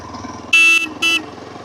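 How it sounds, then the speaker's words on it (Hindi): Two loud, close horn blasts from a 2025 Yezdi Adventure motorcycle, a longer honk followed by a shorter one, sounding over the idling engine. "वाह, काफ़ी बेसी हॉर्न है, लाउड है काफ़ी।"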